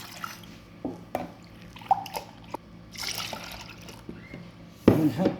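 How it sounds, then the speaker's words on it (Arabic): Milk poured into a pot for a cream filling, scattered drips and splashes leading to a louder, fuller gush of liquid near the end. "بنحط كاستين حليب"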